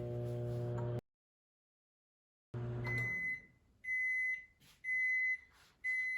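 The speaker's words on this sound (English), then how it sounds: "Now let's put it in a microwave" A microwave oven cooking asparagus in a lidded dish runs with a steady hum, cuts out briefly, then gives a series of sharp repeated beeps, close and loud.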